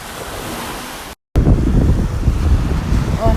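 Wind and lapping waves on the shore of Lake Biwa, Shiga, Japan, a steady broadband rush with low gusty rumble, briefly cut out before resuming loud and continuous.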